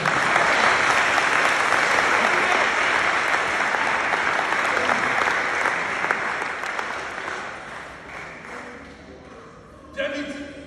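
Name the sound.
congregation applauding to acclaim the Lord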